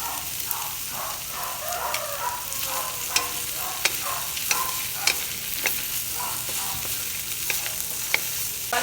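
Leftover chicken stir fry sizzling loudly in a pan, a steady hiss broken by frequent sharp clicks and scrapes of stirring, with no talk.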